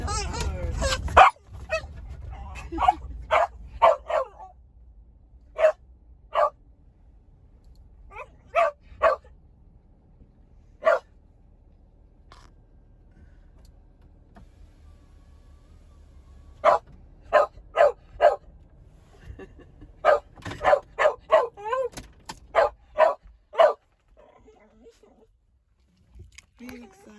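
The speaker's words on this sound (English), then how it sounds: "Yeah, we're at the dog park." Dogs at a dog park bark in scattered bursts, some single and some in quick runs, separated by quiet stretches, with a person talking at times.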